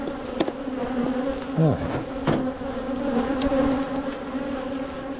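Honey bees buzz in a dense, continuous drone around a beekeeper during a hive inspection, with individual bees whizzing close past now and then; a voice speaks briefly.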